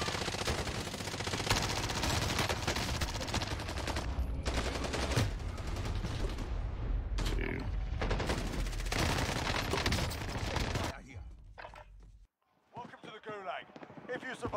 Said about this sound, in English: There's somebody on the roof shooting?